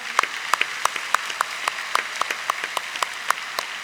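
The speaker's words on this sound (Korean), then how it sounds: "부활하신 우리 예수님께 영광의 박수를 올려드리겠습니다" An Easter Sunday church congregation claps in unison, sharp even beats about three per second over a soft bed of scattered clapping, at moderate loudness.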